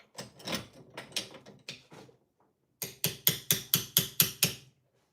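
Mini hammer tapping during assembly of a small trapezium connecting rod air engine, irregular knocks and clatter followed by a burst of about eight sharp metallic taps at an even rhythm, close and loud.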